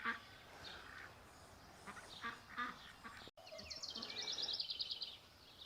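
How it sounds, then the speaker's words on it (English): Restless roosters and other farm animals near a rural cemetery give faint, distant squawking and quacking calls in scattered bursts over quiet outdoor background noise. "The roosters are getting restless."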